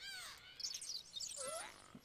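Creature calls in Spore, harsh crow-like cries and chirps with sliding, squawking tones, several short calls in quick succession, fairly faint and close, with no talking.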